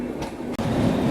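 The Udyan Express on the Pune–Mumbai line rolls along the tracks past a curve between hills, a loud, close, continuous rumble of wheels with a brief clack, heard from on board.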